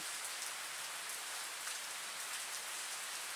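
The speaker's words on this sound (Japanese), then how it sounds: "にしてもこの雨嫌になっちゃうよね。" Steady rain falls on a park in Project Sekai, a dense, even hiss that holds without a break and has no voices over it.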